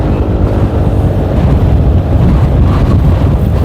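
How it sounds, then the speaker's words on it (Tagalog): Strong wind buffets the microphone in a loud, continuous low roar with gusting swells throughout, during a bicycle race on an open road. "Malakas yung hangin."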